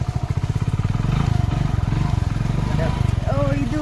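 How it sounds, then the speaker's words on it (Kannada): A motorcycle carrying riders on a road trip runs with a steady, close engine throb that rises in pitch near the end, while people talk over it. "ಬೈಕ್ ಬೇರೆ ತಗೊಬಂದಿದ್ದಾರೆ, ಇದರಲ್ಲೇ ಹೋಗ್ತಾ ಇದ್ದೀವಿ."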